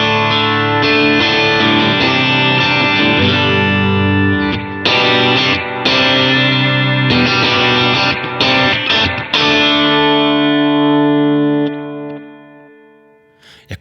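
Electric guitar played through a Positive Grid Riff audio interface into BiasFX effects software, with loud, distorted chords and sustained notes that ring on. The playing stops briefly several times and the tone decays to silence at the end.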